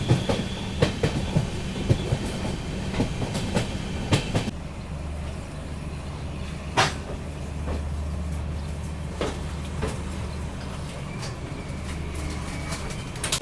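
Guwahati-Agartala Express passenger train running on rails, a loud steady rumble with rhythmic clickety-clack of wheels over rail joints, shifting to a deeper droning roll partway through, with no voices.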